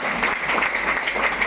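Loud, continuous applause from a crowd at a Human Rights Day event in Chandauli, dense and even without pauses or speech.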